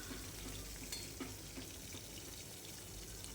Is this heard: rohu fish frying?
yes